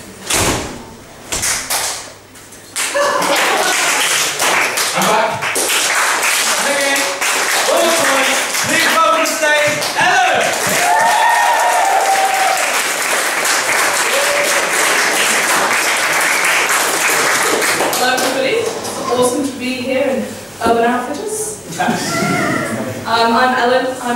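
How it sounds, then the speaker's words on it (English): A group in a community room for a dementia-support stitching session claps in call-and-response across the room, loud bursts of many hands trading back and forth with cheers and voices mixed in, after a brief pause at the start. "When I give you the clap, you're going to clap, and everyone else is going to clap across the room"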